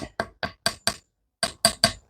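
A hammer tapping a fitting onto a hydraulic spray hose: eight sharp, close metallic strikes, five in quick even succession, a brief pause, then three more.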